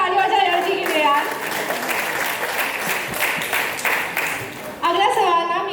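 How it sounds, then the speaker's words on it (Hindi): A studio audience bursts into loud, sustained applause, a dense clatter of many hands that runs nearly the whole time, with voices speaking at the start and end. "एक बार जोरदार ताली बजाएं"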